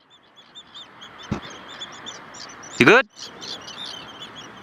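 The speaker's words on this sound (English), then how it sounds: "we're heading into a large group of birds, yeah? There's a lot of seabirds here." Seabirds call around a kayak in the Siglufjörður fjord, Iceland, with chirping calls scattered through the clip and one loud, close cry near the end, under brief talk and water ambience.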